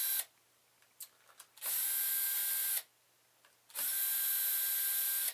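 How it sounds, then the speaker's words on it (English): A cordless screwdriver whirs in two sustained bursts, each about a second long, as it backs out the front housing screws of a KoolAir PM500 pump. Small clicks and taps come between the bursts, and the whole scene is close and fairly quiet. "You can use a cordless screwdriver. Remove the 4 front housing screws here."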